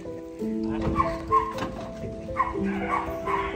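A dog yips and whimpers close by in a series of high, short cries, with some background voices and faint rustling.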